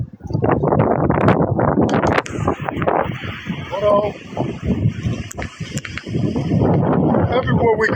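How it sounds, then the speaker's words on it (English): Gusting wind buffets the microphone outdoors in loud, irregular low-frequency rumbles, mixed with people talking close by. "Oh, we got the wind here."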